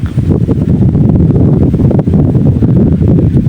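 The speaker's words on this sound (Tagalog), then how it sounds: "malakas na yung hangin" Loud, gusty wind buffets the microphone in a constant low rumble with rushing bursts, close and continuous.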